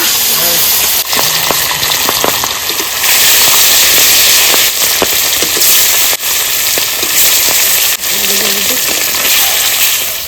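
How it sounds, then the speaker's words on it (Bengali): Fish fry in hot mustard oil in a wok, a loud continuous sizzle and spatter with sharp pops, steady and close throughout. "মাছগুলো ভেজে নেব"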